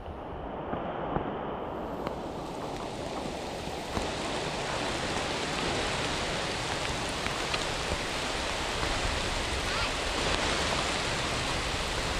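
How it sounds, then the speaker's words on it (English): Heavy rain falls steadily on a hiking trail, a dense, even hiss that stays loud and close throughout with no talk. "Just showing the rain's gotten a little bit heavier"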